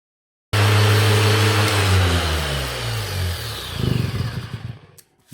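A power sander fitted with 320 grit paper works on an antique slate clock, its motor whine loud and steady at first, then sagging and winding down into rougher scratchy grinding before cutting off near the end.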